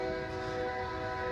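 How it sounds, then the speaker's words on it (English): A long train rolling through town, its sustained tonal horn or wheel squeal ringing steadily with layered pitches over a low rumble, fairly distant and unbroken. "it's the longest train in town. Comes by all the time."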